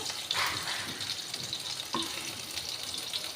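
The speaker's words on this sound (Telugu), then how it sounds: "పన్నీర్ కూడా లైట్గా ఫ్రై అయిందండి" Paneer cubes fry in hot oil in a pan, giving a steady close sizzle with a few sharp stirring scrapes, with no voices.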